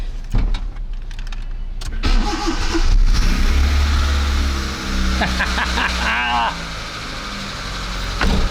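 A Proton Wira car engine cranks and catches, then settles into a rumbling idle with some revving; a person talks over it and exclaims.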